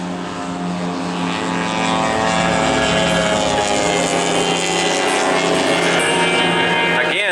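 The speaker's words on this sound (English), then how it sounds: "These are 2-cycle engines, opposing twin motors." Racing boats with two-stroke opposed twin engines run together in a loud, sustained, buzzing drone, the pitch rising slightly as they power along, close and alone without talk.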